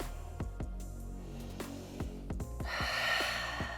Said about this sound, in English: Take a deep breath in and a long breath out.